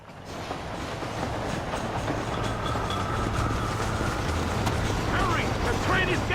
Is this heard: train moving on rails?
yes